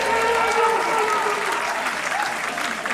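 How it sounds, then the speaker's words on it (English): Wedding guests applaud as the bridesmaid and groomsman are introduced and escorted in, a dense, even wash of clapping from a sizable crowd that holds steady throughout, with a faint voice underneath. "Let's also give them a big round of applause."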